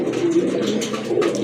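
Domestic and foreign pigeons coo in a low, steady, rolling murmur, close and continuous, with several birds overlapping and no talking.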